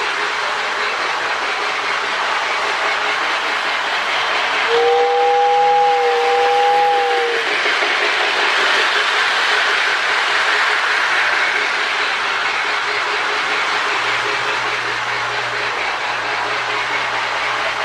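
A Marx mini 999 O gauge toy locomotive with a powered sound tender runs steadily with a continuous mechanical whir, and a brief two-tone whistle sounds midway.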